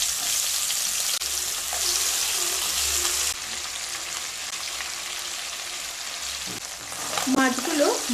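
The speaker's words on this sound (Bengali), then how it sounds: "এবার মাছগুলো ভেজে নেব" Fish frying in hot mustard oil in a pan gives a loud, steady, dense sizzle that fills the whole stretch, with a few soft clatters near the end.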